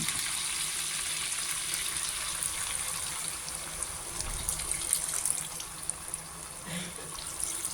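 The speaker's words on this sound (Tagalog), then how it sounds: "mag-add po tayo ng tubig." Water added to pork dinuguan in a cooking pot, a steady pouring gush with faint sizzling underneath, close and continuous for several seconds.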